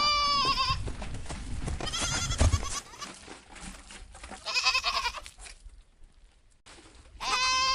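Sheep bleating in an animated children's story about a shepherd and his flock, several bleats in bursts with gaps between, close and clear over a music bed.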